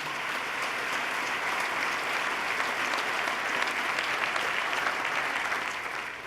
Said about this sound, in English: let's give them a round of applause for their turnaround